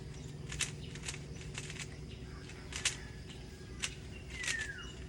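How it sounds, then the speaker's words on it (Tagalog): Birds whistling in trees in Astoria, Bohol, a few brief chirps and one falling whistle, faint over a steady outdoor hum, with no talk during the calls. "Umipito yung ano, ibon."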